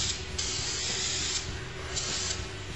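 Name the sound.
spraying cleaner onto an air filter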